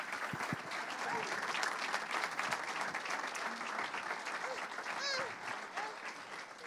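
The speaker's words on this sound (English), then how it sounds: "you can give her a applause." An audience applauds with dense, steady clapping that holds for several seconds, with faint cheers and voices woven through the crowd noise.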